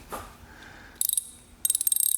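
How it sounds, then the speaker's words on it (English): A Koken 24-tooth ratchet clicks in two short bursts of rapid, bright, close-up ticking, the second run longer than the first, after a brief soft handling noise. "This one here is 24 teeth."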